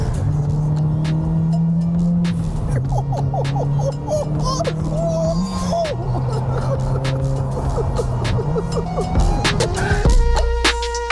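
Tuned car speeding through Tokyo at 120 km/h, a steady loud engine drone with gear shifts and rising revs, with music and a voice over it.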